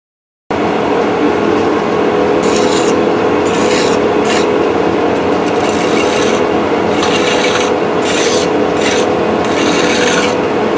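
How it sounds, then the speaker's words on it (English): A metal part being turned and cleaned up on a lathe, heard as a loud, continuous grinding rasp with brighter hissing bursts that come and go throughout, with no talking. "Okay, I got this in the lathe."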